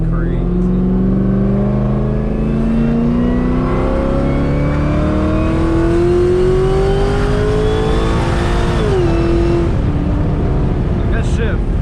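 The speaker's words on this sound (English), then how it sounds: "The fact that that blower sounds like this is crazy." A ported LSA supercharged engine in a Pontiac G8 howls under hard acceleration, its blower whine rising steadily in pitch over the engine roar, then dipping briefly at a gear shift before climbing again, loud and close.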